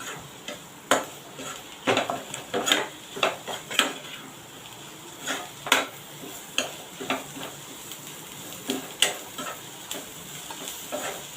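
Chopped ridge gourd being stir-fried with garam masala in a pan, repeated clinks and scrapes of a spoon against the pan over a soft, faint sizzle, uneven in rhythm and with no talking.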